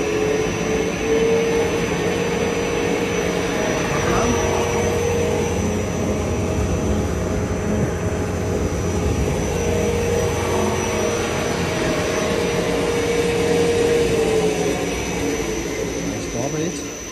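An explosion-proof rubber kneader mixer for NBR rubber runs at maximum speed, a loud, steady machine drone with a constant tonal whine that holds evenly throughout.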